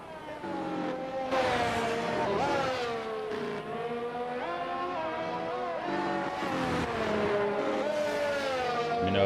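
Formula-style race cars pull out of the pits at the Qatar circuit in a racing video game, giving a continuous, loud engine whine that rises and falls with gear changes while several cars run close together.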